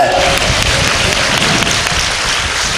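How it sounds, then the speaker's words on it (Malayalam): Congregation clapping hands together, a steady broadband patter of many hands that holds evenly throughout, fairly loud and close. "കൈയടിച്ച്"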